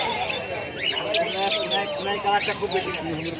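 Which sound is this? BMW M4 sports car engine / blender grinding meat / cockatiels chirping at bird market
cockatiels chirping at bird market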